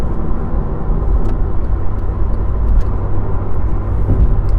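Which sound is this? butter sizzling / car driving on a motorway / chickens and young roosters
car driving on a motorway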